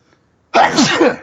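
One close, loud sneeze bursts out of silence, a sharp intake followed by a forceful, slightly drawn-out release, with no talking.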